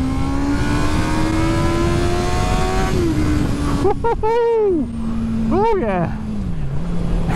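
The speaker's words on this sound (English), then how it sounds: "hear that engine again" A 2022 Honda CB650R with an inline-four engine revs hard in second gear, its smooth, high-pitched wail rising and dipping through several throttle blips, close by. Someone briefly speaks over it.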